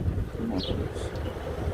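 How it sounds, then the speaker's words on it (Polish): Steady wind rumbles and buffets the microphone, a low continuous roar with faint background sounds. "ale wiatr"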